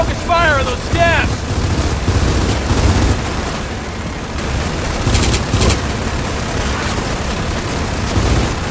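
Video game gunfire aimed at a crystallized monster, a dense rumbling barrage of shots and impacts running throughout, with short bursts of chatter and shouting voices over the din.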